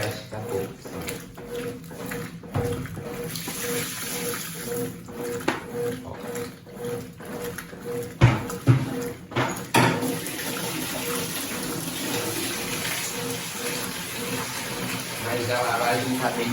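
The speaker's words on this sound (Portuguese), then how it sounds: "Vou colocar um pouco mais de água." Water gushes steadily into the tub of a Consul 8 kg washing machine, a continuous rushing fill close by, with a few knocks partway through and someone talking over it.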